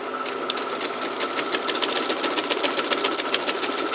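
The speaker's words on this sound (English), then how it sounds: "Now I'm going to be sewing half inches for my shoulder part." A sewing machine runs a half-inch shoulder seam on a princess-dart bustier, its needle hammering in a fast, even rhythm, close and continuous for several seconds.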